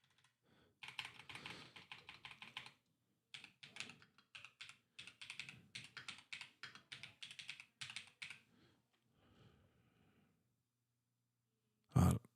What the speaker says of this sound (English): I don't know what's going on with my keyboard.